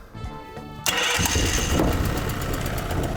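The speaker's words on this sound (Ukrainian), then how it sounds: "Давайте пробувати заводити." Dnipro-M GX-30E portable generator engine starting: a short pull, then the engine catches abruptly and settles into a loud, steady rattling idle close to the recorder.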